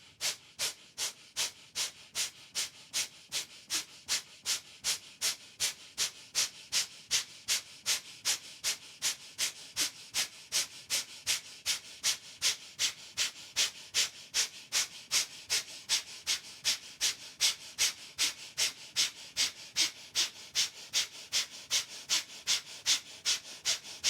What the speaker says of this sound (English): Hard, fast breathing through the nostrils, expanding abdomen on inhale, contracting abdomen on exhale.